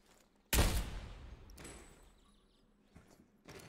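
A loud gunshot burst from a Call of Duty Cold War match in 2v2 search and destroy, a sharp close report followed by a decaying tail and a few quieter clicks and thuds.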